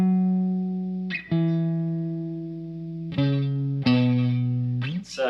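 A K-Line Springfield electric guitar playing sustained, clear single notes that shift pitch every second or so, with crisp pick attacks and a close, clean, bright tone.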